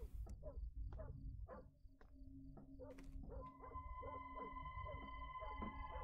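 Dog Zeke in the game Fears to Fathom: Carson House barks and howls in a run of sharp, repeated calls with short gaps, fairly close, over a low background hum.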